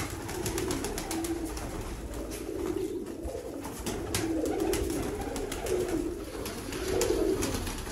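Soft, repeated cooing of golden parwazi pigeons at close range, low rolling coos recurring steadily against a faint background hiss.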